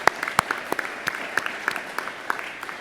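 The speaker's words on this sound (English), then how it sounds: "So again, another round of applause for all of them, please." A small audience at a security policy event gives a brief round of applause, with scattered, distinct claps at an uneven pace, moderately close and without any talk over them.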